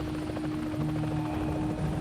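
A rescue helicopter flies overhead during a flood, its steady rotor drone carrying a sustained low hum and a pulsing chop, even and continuous throughout.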